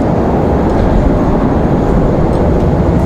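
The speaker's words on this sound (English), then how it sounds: "737-9 coming in." Broadband roar of a Boeing 737-9 airliner on approach to land at Raleigh-Durham airport in windy weather, loud and steady throughout with no pauses or voices.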